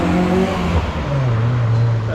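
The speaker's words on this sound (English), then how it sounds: "Fast car moving." A fast car passes along Rua Central de T'oi Sán, a narrow street in Macau, its engine a loud, steady near rumble that swells as it goes by, with street ambience and some voices behind it.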